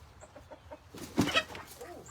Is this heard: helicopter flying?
no